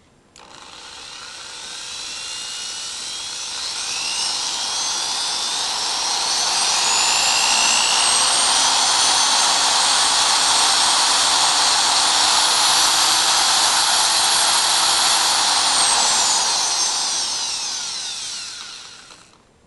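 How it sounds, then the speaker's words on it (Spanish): A power drill spinning a rotating electrode whirs loudly and steadily for about twenty seconds, ramping up at the start and winding down at the end, its high whine shifting slightly. "Voy a accionar el taladro."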